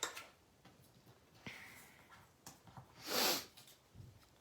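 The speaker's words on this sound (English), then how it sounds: "I want to apologize for all my sniffling and throat clearing" Soft, close sniffling and throat clearing from someone with bad allergies: faint scattered sniffs and breaths in a quiet room, then one louder, harsher snort-like clearing near the end.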